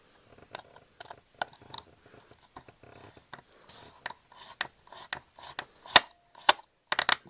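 Screws being loosened and removed from an Astrocade game cartridge, a scattered series of small scraping clicks and creaks, faint and close, with short bursts growing louder toward the end.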